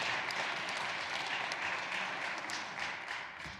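Audience at a National Girls & Women in Sports Day rally in Nevada claps in a brief, fairly faint burst of applause that tapers off toward the end.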